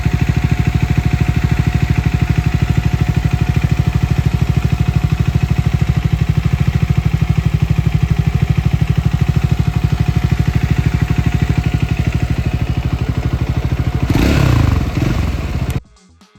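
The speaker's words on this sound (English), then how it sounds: "Here is a small snippet of how the engine sounds." Triumph Scrambler 400X single-cylinder engine idling, a loud, even, rapid exhaust thump held steady close to the mic, ending with a brief scraping rustle before cutting off.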